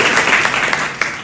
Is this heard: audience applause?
yes